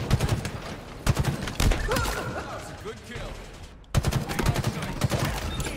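Gunfire in a ranked Slayer match of Halo Infinite, with loud broadband shot bursts repeating in uneven clusters over a dense game mix and a brief drop near the end. Someone talks over it.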